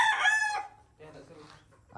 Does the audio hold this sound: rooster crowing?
yes